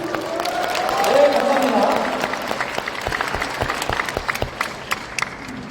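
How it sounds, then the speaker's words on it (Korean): Lecture audience at an expo hall applauding, a broad wash of clapping that swells in the first seconds and then thins out, with a voice speaking briefly over it. "여러분들 박수 치셔도 됩니다"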